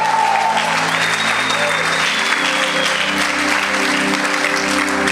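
A church congregation applauds loudly and continuously during a sermon, the dense clapping steady throughout, with sustained musical tones and some voices blended underneath.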